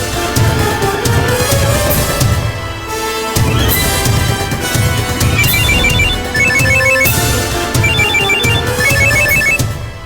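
A telephone ringtone plays loudly and steadily as a melodic electronic tune with music-like layers, continuing through the whole stretch with a short dip partway, in a scene from a Tamil television serial.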